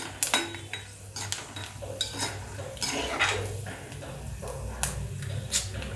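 Peanuts for Maharashtrian kanda poha being dry-roasted in a pan, with repeated clinks and scrapes of a spoon against the metal over a low background hum, close and fairly loud, with no talking.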